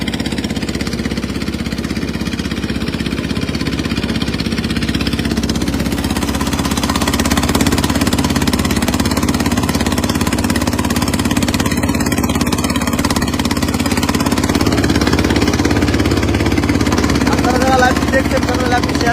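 A trawler boat carries party workers on a river near Barishal with its engine running: a steady, loud low mechanical drone that continues through the whole stretch, with voices talking over it.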